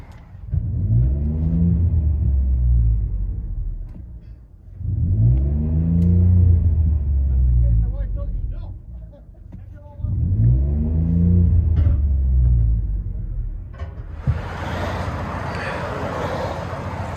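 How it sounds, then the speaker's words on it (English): Ford F-150 2014 EcoBoost V6 with CARVEN R-Series dual exhaust and resonator delete, heard from inside the cab: three loud revving pulls each rising and falling, then a rushing whoosh of air at the end. "Ford F-150 EcoBoost CARVEN R duals with resonator delete."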